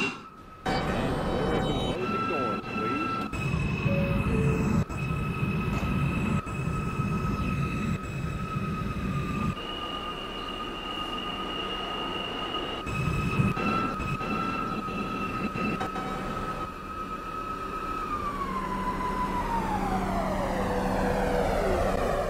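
Roblox subway train running in a video game, a steady loud rumble with a sustained tone that slides downward near the end as the train slows, carrying on for the whole stretch.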